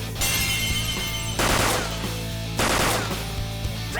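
Rapid gunfire in Persona 5 Royal, with three loud bursts of rattling shots over a steady low game drone.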